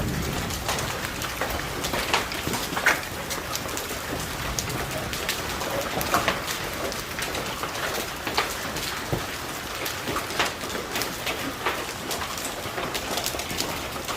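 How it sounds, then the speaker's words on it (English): Large golf-ball-sized hailstones pound a backyard pool during a North Texas hailstorm, a dense, continuous roar of impacts and splashes with scattered sharper hits throughout. "And then look at how big these hail pieces are. It's like as big as a golf ball."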